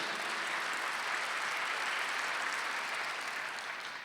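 A church congregation applauding during a Sunday worship service, steady dense clapping filling the room and fading slightly at the end.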